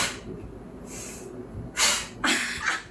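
A woman breathes deeply during a belly-rolling core exercise, with a few strong, close breaths through the nose. A long, forceful exhale is followed by another sharp breath near the end.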